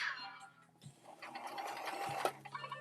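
A home sewing machine runs a regular straight stitch in short, uneven bursts, with brief pauses and quiet handling noise between runs, fairly faint and close.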